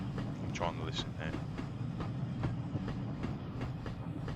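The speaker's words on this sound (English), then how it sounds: "I'm sure you can hear that residual running noise in the background" Low continuous running noise from model GNR six-wheel coaches rolling on track, a steady rumble with faint rhythmic clicks, heard in the background throughout.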